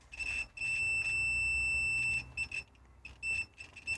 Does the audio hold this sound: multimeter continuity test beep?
yes